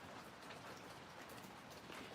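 Gentle morning rain falling steadily in a garden, a soft, even hiss of drops on surfaces throughout with no voices.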